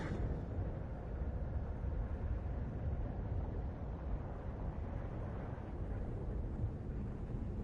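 Psychic storm effect in the game Life is Strange: Double Exposure: a dense, continuous low roaring rumble like heavy wind, holding steady and loud throughout with no pauses.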